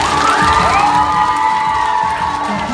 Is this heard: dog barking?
no